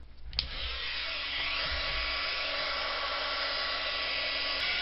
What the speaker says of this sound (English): You want to make sure you warm up your heat gun first.